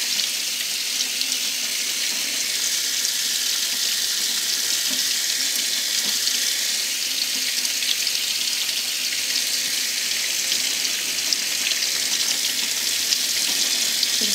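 Running tap water pours steadily over a glass piece, rinsing off etching cream in a continuous, even hiss with no pauses, close and fairly loud, no talking.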